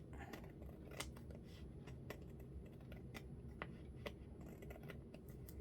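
Close scissors trim with quick repeated crisp snips at an irregular rhythm over a steady low background hum, quiet and without any speech.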